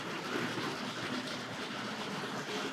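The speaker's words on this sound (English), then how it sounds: "let's see if we can get the other passenger train underway on the other line" A Tri-ang model train runs along its track with a steady, loud, continuous whirring rumble, uninterrupted throughout.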